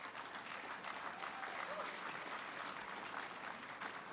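Audience applause fills a ceremony hall at an awards event, dense steady clapping from a large crowd held at an even level throughout.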